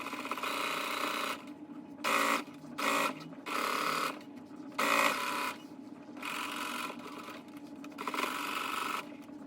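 Sewing machine stitching the side seam of a tote bag lining in short runs of rapid whirring, with six or seven bursts separated by brief pauses and a low steady background hum.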